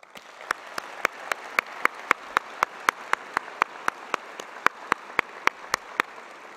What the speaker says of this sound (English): Would you all please join me in a round of applause thanking the many people, all of the staff, for the hard work and dedication to make today's event possible